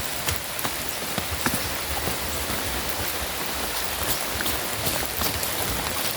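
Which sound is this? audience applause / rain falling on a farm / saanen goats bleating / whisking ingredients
rain falling on a farm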